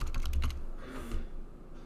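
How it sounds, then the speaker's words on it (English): Rapid clicking keystrokes on a computer keyboard, close and fairly loud, a quick burst of typing followed by softer scattered taps with no talking. "I'm typing."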